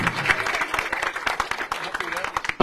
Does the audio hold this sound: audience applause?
yes